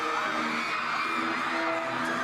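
Fans in a big crowd at a concert scream and cheer in a loud, steady, unbroken wave of high-pitched voices.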